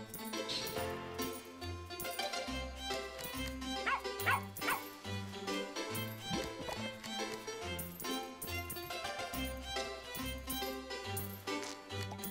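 Cartoonish dog barks and yips from a pet in the video game Plantera, repeating in bursts over busy looping game music that plays throughout.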